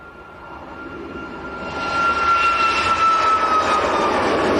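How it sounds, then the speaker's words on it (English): A Malta Air Boeing 737 MAX operating for Ryanair roars past at Leeds Bradford Airport, its jet engine noise swelling from moderate to loud and steady, with a high whine running through the rumble. "Ryanair, well, it's operating for Ryanair, the Malta Air, 738 MAX."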